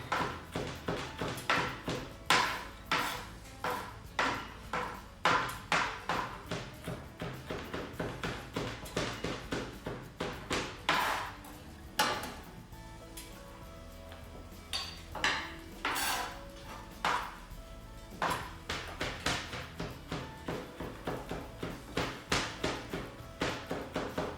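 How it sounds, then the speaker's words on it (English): A knife finely chopping garlic on a board makes steady rhythmic taps in quick bursts, with brief pauses between runs, close and crisp. "chop the garlic finely with the knife"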